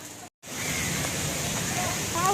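A steady, dense wash of rain roars throughout, briefly cut off near the start, loud and close, with faint voices buried in the noise.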